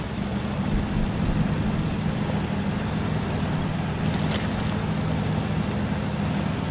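In the SnowRunner video game, a Land Rover Series 3 climbs a slope in low gear, its engine a steady, even low drone that holds constant throughout.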